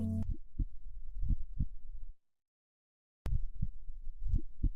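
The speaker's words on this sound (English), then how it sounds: "Do you hear the heartbeat?" Heartbeat sound soloed from a music track, playing alone as a steady series of low, thumping double beats, cut off by a brief silence before the pulsing resumes.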